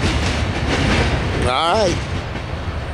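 A Norfolk Southern grain train of empty hoppers rolls north past the camera at night, a loud continuous rumble of wheels and cars with a short tonal squeal partway through and a brief spoken word over it.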